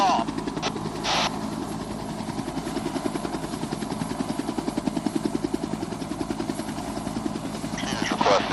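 A Cobra attack helicopter spins up for takeoff at Myrtle Beach, its loud rotor thudding in a steady fast chop with a turbine whine beneath, and a voice talks briefly over it.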